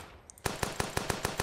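A mounted machine gun in the trench game fires a quick burst of about seven evenly spaced shots after a short quiet pause, close and punchy, with no talking.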